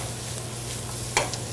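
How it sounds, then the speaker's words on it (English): Garlic sautéing in a pan, a soft continuous sizzle with one brief scrape or clink of a utensil near the end. "give it a little saute, got garlic"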